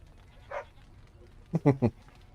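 A dog in the video game Dragon Age gives a single short yip, then a quick burst of three close barks after a pause. A voice is heard speaking.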